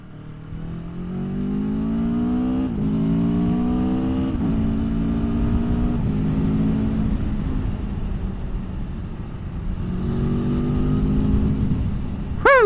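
A new motorcycle accelerates hard while being ridden, its engine note climbing through the gears with rising revs, brief dips at each shift, and steady wind and road roar underneath.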